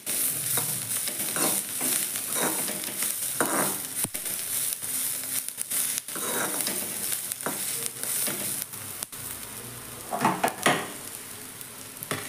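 Masala for matar paneer roasting in a pan: a steady sizzle and frying hiss with repeated scraping stir strokes, close and fairly loud, with no talking.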